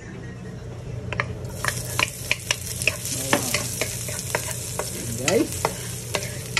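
Garlic fries in a pan for crispy pork binagoongan, giving a constant sizzle under regular clacking scrapes of a spatula stirring, close up, with one brief spoken word.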